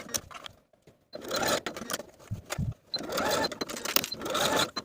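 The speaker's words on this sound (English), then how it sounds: "Then take it to your machine and baste each of those edges of the elastic in place." A home sewing machine basting the edges of elastic for a shirred puff-sleeve top, running in two sustained whirring bursts of stitching separated by a brief pause, close and fairly loud.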